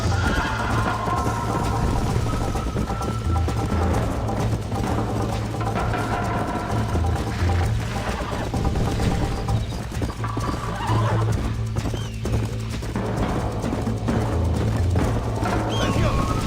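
Horse hooves clip-clop at a steady gallop with occasional neighs in a video game race on a level 1 horse, loud and continuous under a steady game music drone.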